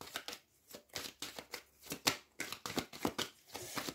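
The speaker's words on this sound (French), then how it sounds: "Je vais tirer une autre carte pour voir ce qu'on me dit" A tarot deck is shuffled and cards are drawn: rhythmic riffling and slapping card bursts repeat roughly twice a second, close and crisp, with no talking.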